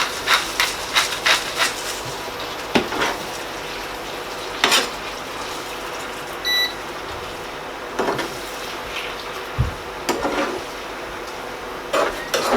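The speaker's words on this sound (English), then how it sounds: "Just mixing all the ingredients together." Spaghetti bolognese ingredients stirred in a pot, with repeated spoon scrapes and knocks against the metal over a steady low sizzle, close and intermittent.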